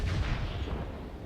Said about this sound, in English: But that was one large caliber shot.